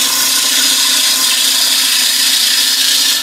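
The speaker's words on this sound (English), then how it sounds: "So we're going to do a finishing cut before we actually start sand though." A wood lathe makes a finishing cut on a bowl turned from scrap wood, a steady, loud, hissing scrape of the tool against spinning timber that runs unbroken, with no talk.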